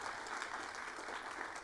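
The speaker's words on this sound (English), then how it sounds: "let's give an applause to everybody who was there" Applause from the audience at a CSE tutor reunion, a dense, steady patter of many hands clapping at even strength throughout, with no voices standing out.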